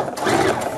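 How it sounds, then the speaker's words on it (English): A sewing machine runs a brief, close burst of rapid stitching along a mitered quilt border, steady and alone for under a second. "And then I'm just going to sew along the line."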